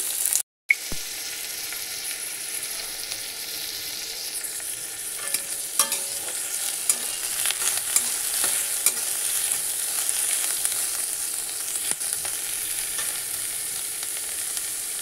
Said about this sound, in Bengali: কড়াইতে তেল দিয়ে দিয়েছি, তেলটা গরমও হয়ে গেছে। এর মধ্যে দিচ্ছি পেঁয়াজ ফোড়ন